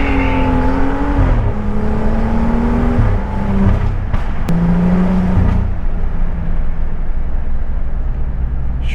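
A tuned BMW 535i M-Sport with an MHD tune accelerates hard, its loud, close engine note climbing steadily through the revs, dropping briefly at gear shifts and pulling up again over a constant road roar.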